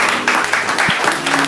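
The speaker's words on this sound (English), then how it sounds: "with the same round of applause" Audience applause at a handing-over ceremony, dense steady clapping from many hands filling the short stretch, close and loud.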